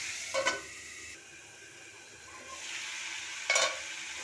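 Potato and eggplant pieces frying in a covered pan, a soft steady sizzle with two brief louder bursts of stirring or lid movement, heard close and without talk.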